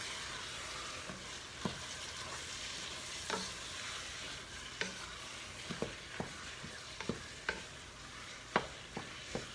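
Ground meat with Worcestershire sauce sizzles steadily in a pot for keto cabbage roll soup, broken by regular sharp scrapes and clicks of a stirring spoon, with no talk.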